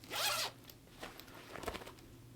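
A single quick zip of a flat zippered bag, close and fairly quiet, followed by faint rustling handling sounds.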